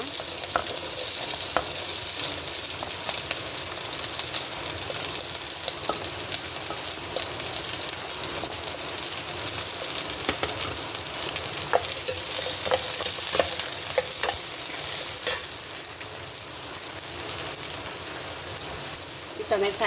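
Capsicum stir-frying in virgin coconut oil in a pan for vegetable kadai, a steady sizzling crackle with occasional stirring scrapes and clinks, close and continuous.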